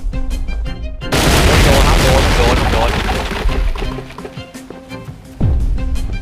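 A loud booming cannon blast in the pirate video game Pirate Code bursts out and roars on for a few seconds, followed by another thud, with game sound effects around it.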